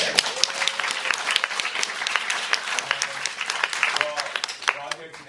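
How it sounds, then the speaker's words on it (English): An audience applauds at a school brain-education event, dense clapping sustained for several seconds, close and fairly loud, tapering slightly at the end. "Can we clap for that one?"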